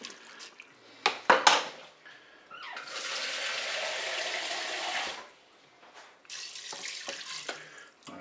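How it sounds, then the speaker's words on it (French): Water poured into a Cookeo pot over the ingredients, a steady rushing pour of a few seconds, preceded by brief clinks and followed by softer trickling. "maintenant on va mettre de l'eau pour recouvrir les ingrédients"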